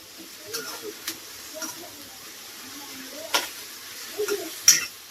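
Sukka chicken being stirred and sautéed in a home kitchen pan, soft faint sizzling with sparse scraping and clinking of a spoon against the pan in irregular bursts.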